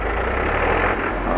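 A Powertrac 439 Plus tractor engine labors up a ramp, a steady loud diesel rumble and roar with no break, heard close up.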